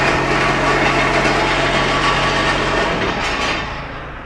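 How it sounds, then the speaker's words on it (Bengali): A semi-automatic block making machine running on its electric motor, a loud, steady mechanical whir and hum with a constant low drone, close up, fading slightly at the end. "এই মেশিনে কিন্তু হাতের কোনো কাজ নাই, শুধুমাত্র মোটরে কাজ চলতেছে"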